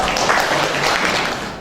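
Applause from a seminar audience in Bali, a dense steady wash of clapping lasting under two seconds and tapering slightly at the end.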